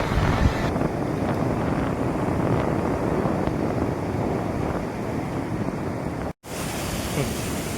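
River water pours through two open dam gates beside a village riverbank, a loud, steady broadband roar mixed with wind buffeting on the microphone, with a brief dropout near the end.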